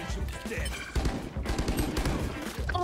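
Rapid gunfire in a Valorant match, dense bursts of shots running nearly continuously with sharp transients throughout, loud and close, with a player talking over part of it.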